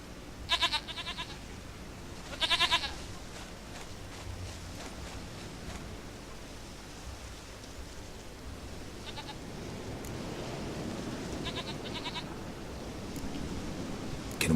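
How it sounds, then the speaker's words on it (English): A goat in The Witcher 3 video game bleats several times in short, wavering calls spread across the scene, over a soft ambient outdoor background. "Goat of mine, dearest, sweetest goat."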